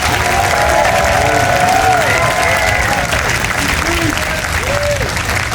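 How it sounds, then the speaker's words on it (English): A crowd at a fundraiser and awards luncheon applauds and cheers loudly and steadily for several seconds, with whoops and voices rising above the dense, continuous clapping. "Put your hands together and let's make some noise."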